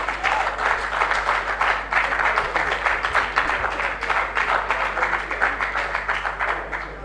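An audience at an international symposium on countering organized crime in Africa claps together in a sustained, even round of applause that fills the hall, with a faint low hum underneath.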